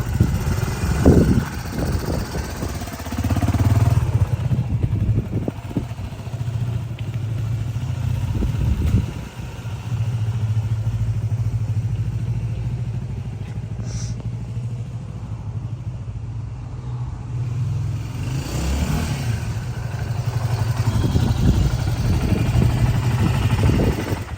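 A Yamaha WR250R motorcycle with 29,000 km on it idles with a steady low rumble, rising briefly in a couple of revs near the start and end, close by with no talk.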